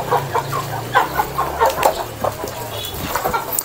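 Bangkok fighting chickens being fed: repeated clucks and short calls close by, with scuffling and pecking sounds as the birds rush to the food, alongside a low background hum.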